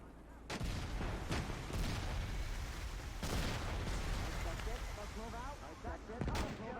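Mortar and artillery fire rolls across the Iwo Jima 1945 battlefield in a war game, loud repeated booming blasts and rattling gunfire overlapping continuously, with a voice heard faintly underneath.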